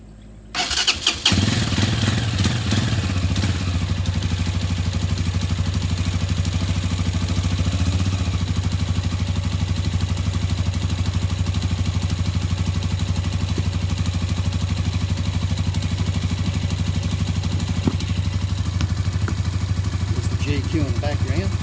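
Braaap ST 250 motorcycle cranked and fired up, catching after a brief starter burst, then settling into a steady, close, loud idle with a low thumping exhaust and mechanical clatter for the rest of the clip.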